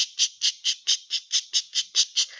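A voice imitates a quick exchange of money with a sharp, high squawking mouth noise repeated about ten times in a steady fast rhythm, close and alone.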